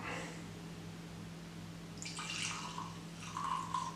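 Horse Soldier whiskey pours from a bottle in two short gurgling bursts over a low steady hum, close and fairly quiet.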